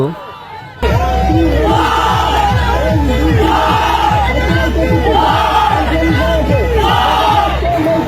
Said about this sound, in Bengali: বিজয় উল্লাস করছেন তারা কারণ প্রথম সোপে তারা বিজয়ী হয়েছেন